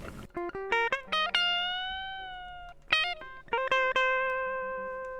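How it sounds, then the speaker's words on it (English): Clean electric guitar playing a short melodic phrase of plucked notes, each ringing with a bright sustained tone and decaying between picks, no distortion. "So that's what the guitar sound like with no effects"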